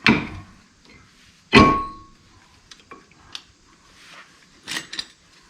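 Metal brake pads clack and clink as they are slid onto the caliper of a 2004 Jeep Grand Cherokee, with two sharp close clangs followed by lighter scattered taps and scrapes, no talking.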